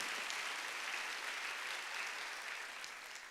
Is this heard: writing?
no